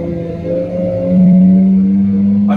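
A racing car engine in Forza 6 climbs steadily to the red line, a loud sustained tonal whine rising and then holding near its top, close and alone.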